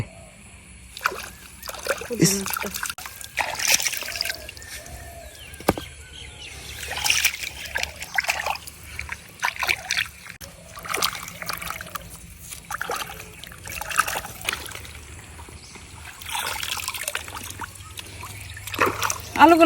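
Freshly dug homegrown potatoes being washed in water, with intermittent splashing and trickling at close range, some birds audible in the background.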